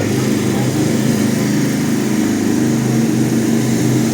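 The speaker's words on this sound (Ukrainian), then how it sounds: "Це в центрі Львова працюють генератори." Power generators drone steadily in Lviv city centre during a blackout, a continuous loud engine hum with a low buzzing tone that fills the scene with no pauses.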